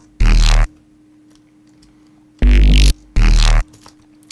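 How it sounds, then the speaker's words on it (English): Synth response bass from an electronic track made with Serum effects in Ableton: three loud, heavy bursts (one long, then two close together) with gritty upper texture, separated by near silence. "And the response bass sounds like this."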